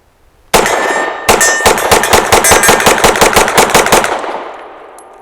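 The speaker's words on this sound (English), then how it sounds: "I was just trying to see how fast I could go because these Canik triggers are fast." A Canik METE SF pistol fires Winchester white box ammunition in a fast string of about sixteen loud, sharp shots after a single opening shot, close and dense, ringing out at the end with no talk.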